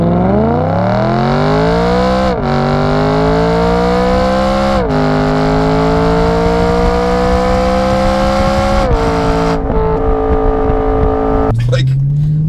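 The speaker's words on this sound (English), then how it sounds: "I didn't realize how high revving this V8 was" A 2011 BMW M3 E92 coupe's high-revving V8 screams loud and close through several full-throttle gear pulls, each rising whine broken by a brief dip at the shift before climbing again.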